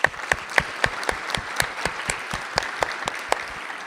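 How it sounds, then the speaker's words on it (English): A chamber audience applauds a Teacher of the Year honoree in the House Chamber, with steady, moderately loud clapping and distinct individual claps throughout, no voices over it. "please, let's all give her a round of applause"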